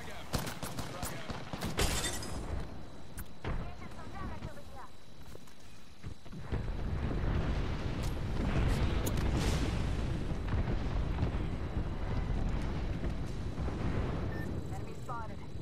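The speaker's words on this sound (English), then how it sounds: "Watch it, airstrike." Airstrike and frag grenade explosions in an Apex Legends match boom and crackle in loud bursts, with a sharp blast early on, then a long rumbling barrage of rolling detonations and debris that carries through to the end.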